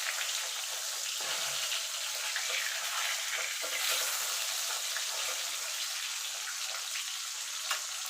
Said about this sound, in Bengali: এবার মাছগুলোকে এপিট ওপিট করে আমি লাল করে ভেজে নেব